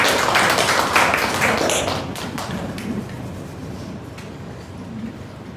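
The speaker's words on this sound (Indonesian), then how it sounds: "Tepuk tangan untuk kelompok yang berhasil." A high school class in Malang applauds a winning student group, a burst of clapping from many hands that is loudest at the start and tapers off over a few seconds.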